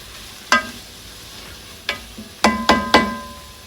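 A utensil knocks against a pot in several sharp clinks, the last three quick and close together, as onions are stirred and softened in butter for French onion soup. A faint sizzle sits underneath.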